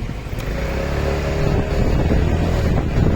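A Honda Forza 250 scooter with a freshly serviced variator pulls away, its engine droning steadily and building in loudness, with wind buffeting the microphone.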